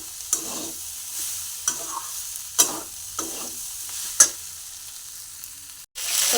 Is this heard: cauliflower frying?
yes